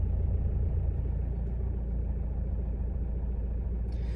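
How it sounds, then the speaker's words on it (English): Old Saab diesel engine rattling while driving, a continuous low rumble and drone from inside the cabin, steady throughout with no talk. "you can hear that diesel rattle on the old Swedish tractor"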